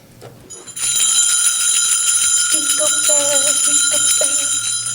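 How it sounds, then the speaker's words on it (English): Bright bells ring steadily and loudly with sustained metallic tones, and a few brief vocal sounds rise over them. "Ring the bells!"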